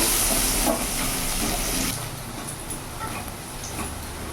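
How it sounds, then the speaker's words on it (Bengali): Chopped onions sizzling in hot oil in a pan while cooking bhindi masala, a steady close hiss that is louder at first and then settles into a softer frying crackle. "পেঁয়াজের কাঁচা গন্ধটা চলে যায়, ততক্ষণ আমি একটু ভেজে নেবো।"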